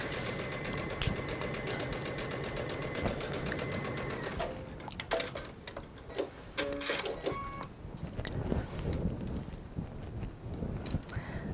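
A sewing machine sews a lace insert, running continuously for about four seconds, then handling and small clicks from the fabric work follow at close range.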